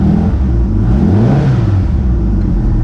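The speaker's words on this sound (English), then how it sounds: "You can hear when I rev it up." Pulse autocycle with a 1200 engine revving up on its first start, a loud close mid-pitched engine roar rising and falling through a rev with a continuous rumble underneath.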